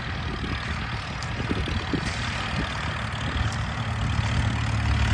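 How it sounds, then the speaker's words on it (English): An old tractor pulling an old plow at a plow day runs as a steady, rumbling engine, close and loud. The tone is low and continuous, with no speech. "his son Chris Whiteman's driving the tractor now"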